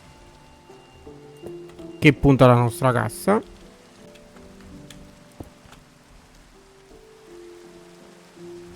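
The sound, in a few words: rain falling in the video game Minecraft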